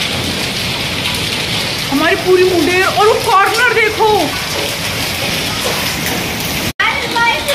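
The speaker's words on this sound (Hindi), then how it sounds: "आज बहुत बहुत तगड़ी ओलावृष्टि हो गई, ओले वाली बारिश।" Steady, dense pelting of hail and heavy rain on surfaces, continuous throughout, with people talking excitedly over it.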